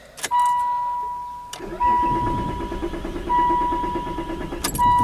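A Ford Probe engine cranks without catching in repeated bursts separated by brief pauses, with a rhythmic starter chug under a high whine, close and fairly loud.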